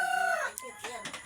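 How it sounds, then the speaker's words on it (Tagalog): A mother hen clucks with her chicks close by, a drawn-out tonal call followed by a few short, softer clucks in quick succession. "Yung inahin kaipit."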